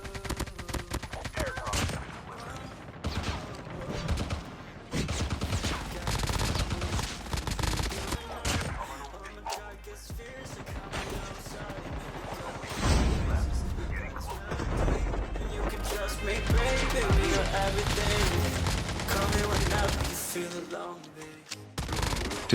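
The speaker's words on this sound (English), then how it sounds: "let's check the hip fire accuracy" Rapid, continuous automatic gunfire from a Fennec submachine gun fired from the hip in the video game Call of Duty Mobile. The dense bursts run almost without a break and stay loud throughout.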